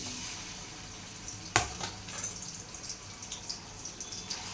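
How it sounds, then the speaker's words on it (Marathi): Paneer fries in hot oil in a kadhai, giving a soft sizzle with a sharp clatter early on and scattered small pops and crackles, fairly close and quiet. "आता थोडं पनीर तळून घेते मी."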